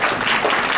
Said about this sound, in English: Ramseen, would you please give them another round of applause